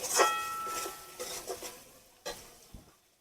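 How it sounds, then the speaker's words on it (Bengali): Lote fish sizzling and being stirred in a pan, with a sharp opening clatter followed by scraping strokes and soft frying hiss that fade out over a few seconds. "এখন ভালোভাবে মাছটাকে কষে নিতে হবে"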